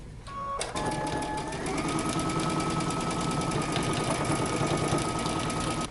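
A sewing machine back stitches along a jacket hem, starting after a brief pause with a steady, fast mechanical whirr and rhythmic needle clatter that runs continuously and close up.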